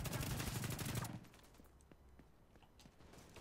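Gunfire in The Division 2: a dense, loud burst of rapid automatic shots for about a second, then quieter scattered pops and clicks in the background.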